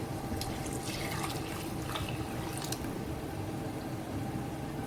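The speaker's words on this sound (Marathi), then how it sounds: "ॲड करते पाणी" Hot water pours steadily into a pot of curry, a continuous splashing gurgle with faint clinks, close and moderately quiet.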